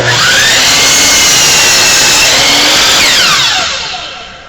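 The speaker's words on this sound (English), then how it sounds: "So what we're going to do is we're going to go to the miter saw. We're going to square the ends." A miter saw cuts a sliver from the end of a board to square it, a loud, high whine that runs steadily and then winds down as the blade slows.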